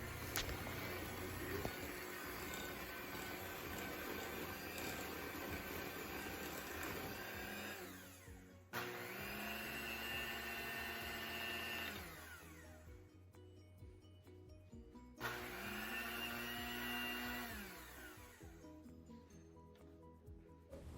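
Chocolate cupcake batter being mixed thoroughly in a bowl by an electric mixer or blender, a steady loud motorized whir that runs in three long bursts with brief pauses between them.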